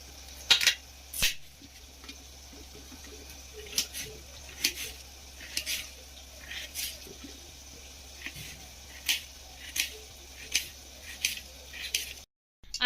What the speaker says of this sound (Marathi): आता आपण आलू कट करू।